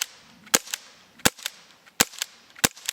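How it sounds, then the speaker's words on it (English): Four sharp, evenly spaced cracks from a Secure 68P CO2 air gun as the trigger is pulled repeatedly to empty the cartridge, each shot close and followed by a quieter secondary click. "how you discharge that is you just keep pulling the trigger"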